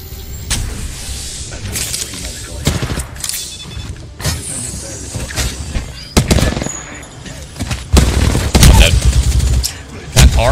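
Video game gunfire from Apex Legends, rapid bursts of shots cracking in clusters over a steady mechanical game ambience, loud and close with denser volleys toward the end, with no speech over it.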